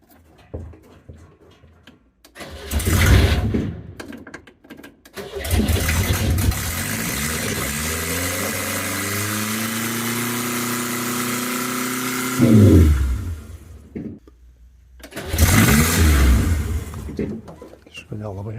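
A carburetted car engine in a garage cranks and starts, then holds a high, steady rev for several seconds as the pitch climbs and settles, close and loud, with short bursts of other engine noise before and after.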